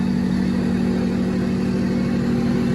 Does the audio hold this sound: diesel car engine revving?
yes